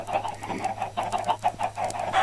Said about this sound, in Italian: È pieno di polli, tu fai i polli